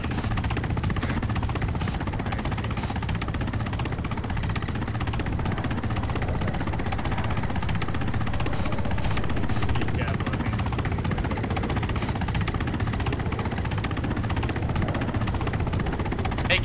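A helicopter in a video game drones steadily and loudly throughout, a constant rotor and engine roar with people talking over it.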